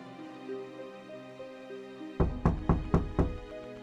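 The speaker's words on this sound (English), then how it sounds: "There's a knock at the door." Five loud, sharp knocks on a door in the horror video game Death's Grasp, in quick succession, following a quiet sustained musical drone.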